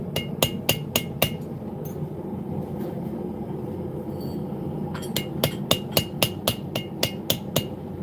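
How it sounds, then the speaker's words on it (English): Cold chiseling a metal piece at a forge that has lost most of its heat, heard as a series of sharp hammer strikes on the chisel in two bursts, a quick run of about five blows, then a pause, then a steady run of about ten blows. "So at this point, it's cold chiseling, because I'm pretty sure I've lost most of the heat in the piece."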